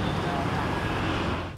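Stop-and-go traffic on a congested Jakarta street, a dense, steady roadway rumble with wind buffeting the microphone, tapering slightly at the end.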